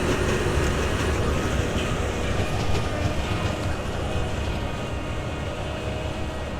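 A sugar beet harvester's elevator runs continuously, loading beet into a trailer during the harvest, giving a loud, steady mechanical rumble and clatter throughout with no pauses.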